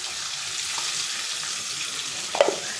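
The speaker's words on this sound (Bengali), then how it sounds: "পেস্টটা দিয়ে দিচ্ছি" Spice paste sizzling in a hot pan after ground cumin and chili powder, a steady hiss of frying with a couple of small clinks near the end, close and without talk.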